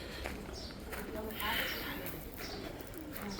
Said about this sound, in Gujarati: આ છે અમારા આશ્રમના કબૂતર